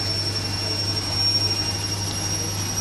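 An old Bosch washing machine, roughly fifteen years in use, running an 800 rpm spin cycle while shaking badly: a loud, steady motor roar with a constant low hum and a thin high whine throughout.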